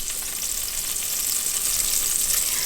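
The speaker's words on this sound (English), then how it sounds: "So I'm gonna start by adding in the butter. You can see that that's sizzling," Butter sizzles in a hot pan at the start of a chicken and broccoli rice dish, a steady close hiss and crackle with no talking.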